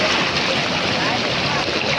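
Swollen Malan river floodwater pours past in a dense, constant rushing roar, loud and near, with no break or change in level.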